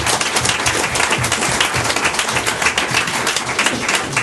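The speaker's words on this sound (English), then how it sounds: "give these 3 guys a massive round of applause" A showcase audience claps in a dense, continuous round of applause, loud and even across the whole stretch with no pauses.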